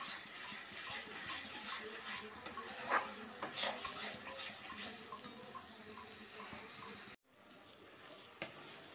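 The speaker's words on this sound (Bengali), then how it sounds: "এবার আমি জল দিয়ে দিলাম।" Water poured into a pan of sizzling Indian crab curry after the oil separates, a steady hiss and bubbling with scraping spoon stirs and faint metal clinks, close and continuous, ending with a sharp cut and a brief knock.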